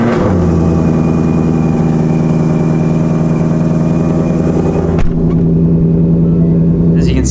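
A Ford Shelby GT350 V8 runs loud and close, holding a steady rumbling idle throughout with a brief blip or start transient about two-thirds through before settling back to idle.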